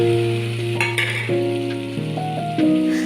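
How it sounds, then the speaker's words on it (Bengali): Fried potatoes and okra for bhindi masala sizzle loudly in a kadai. The frying hiss is steady and close, with sustained tonal ringing and a few metallic clinks from stirring. "এখন ওই আলু ভাজা আর ভেন্ডি ভাজাগুলোকে আমি কড়াইতে ছেড়ে দেব।"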